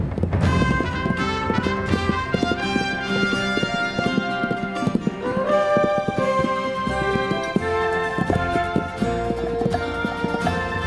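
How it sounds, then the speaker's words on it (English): Wild horses move across cool green mountain heights in southern Montana. Their hooves clip-clop in a busy, uneven patter, with music playing along and an occasional whinny. "Spurred by heat and hunger, wild horses converge on the cool green heights"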